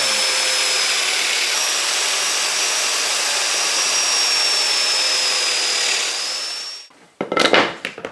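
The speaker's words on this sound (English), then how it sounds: "when you're doing vertical plunge work with a domino, I suggest you always start the machine before you try and position it" A Domino joiner whirs steadily and loudly while plunge-cutting vertical slots in wood during hall table frame assembly, its motor whine holding for about seven seconds before spinning down, followed by a brief clatter.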